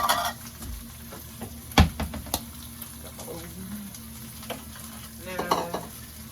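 Bacon fries in a pan with a steady, soft sizzle and crackle, punctuated by a few sharp clicks and clatters of utensils against the pan.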